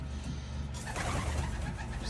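Pigeons coo softly outdoors in cold weather, around 20 degrees, a low repeated murmur under steady background hum, with a faint passing car.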